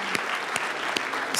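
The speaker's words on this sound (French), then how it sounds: "malheureusement, on applaudit quand même" An audience at Science, on tourne! 2025 applauds the Dawson College team, with steady crowd clapping punctuated by a few sharp louder claps at fairly regular intervals.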